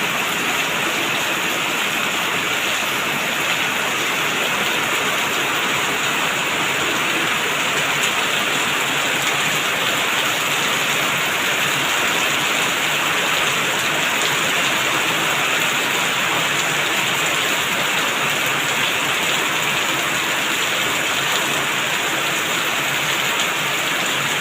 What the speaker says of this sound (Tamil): ஒரு வழியே அப்படியே காற்று இல்லை, சும்மா மழை மட்டும் அப்படியே நல்லா பெய்யுது.